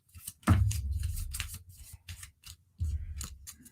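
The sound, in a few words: tarot cards being shuffled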